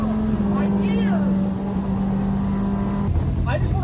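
Hayabusa-engined Suzuki Swift screaming at high RPM around 50 to 60 mph, a loud steady engine drone with whining harmonics throughout, briefly dropping pitch near the end; a voice talks over it.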